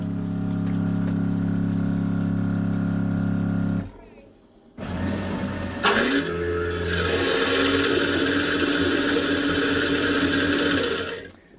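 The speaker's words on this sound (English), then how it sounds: "And then to flush it, you hit the gray button again." Jabsco Lite electric marine toilet on a houseboat or RV flushing: after a short pause a loud electric pump whirs and water gushes and churns steadily for several seconds, close by, following a steady hum.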